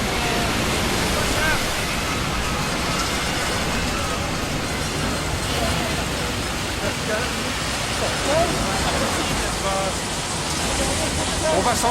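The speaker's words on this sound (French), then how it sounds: "La pluie! Regardez la pluie!" Steady, dense hiss of heavy rain pours continuously at high volume, a constant wash of noise with no pauses.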